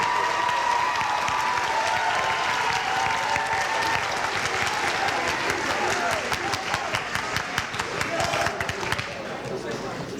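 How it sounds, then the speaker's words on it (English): Sustained audience applause fills an 8th grade promotion ceremony, dense steady clapping from a large crowd with a few cheers and a brief voice rising over it, continuing for the whole stretch before easing slightly near the end. "Round of applause for Mrs."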